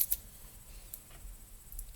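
Handy scissors snip a few short, crisp cuts through scrap fabric while a stuffed toy is being sewn, the cuts sounding close and brief against a quiet room.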